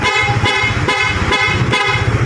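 A loud PIAA horn on a Honda Winner X motorcycle blares in rapid, repeated pulses, about five sharp honks in a steady rhythm, close by.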